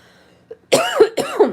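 Two harsh coughs in quick succession, close and loud, with a little throat sound just before them.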